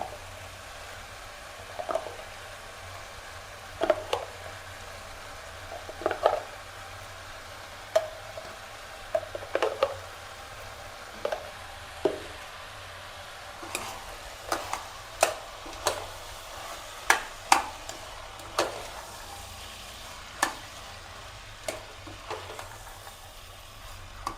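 Chickpea and potato palya with spices being stirred in a pan: a low, steady sizzle beneath irregular scrapes and taps of the spoon, growing busier in the later half.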